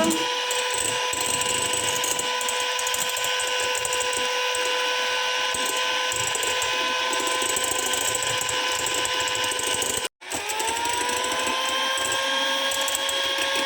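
An electric mixer beats a lemon juice and zest mixture with a steady, close motor whine, stops briefly near the end and then spins back up, with no talk.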